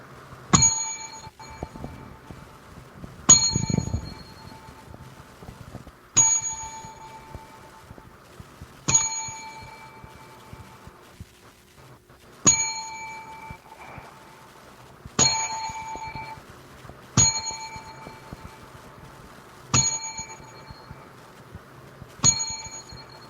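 A bell struck ten times as a memorial salute for the Ugandan giant wrestler Kamala, each clear ring spaced a few seconds apart and decaying over a quiet, low background hum.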